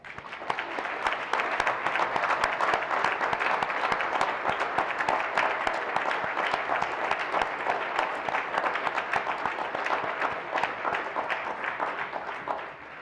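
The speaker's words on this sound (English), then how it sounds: "join me in giving them a round of applause" Steady, moderately distant applause from an audience at a city summit honoring volunteers, dense even clapping holding for the full duration.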